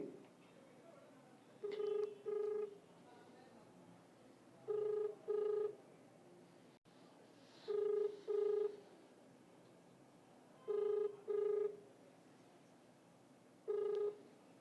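A phone ringback tone repeats in paired rings, five double rings spaced a few seconds apart, steady and clear with a quiet line between.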